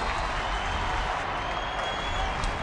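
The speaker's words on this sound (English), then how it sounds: "Crowd trying to get behind Verlander here" A baseball stadium crowd at a Detroit game cheers and claps for pitcher Verlander, a steady, broad roar of applause and voices that holds evenly throughout.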